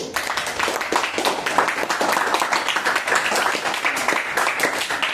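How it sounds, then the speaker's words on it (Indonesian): Classroom applause for a student group, many hands clapping steadily and fairly close for about five seconds, with no talk over it. "beri tepuk tangan kepada kelompok 1"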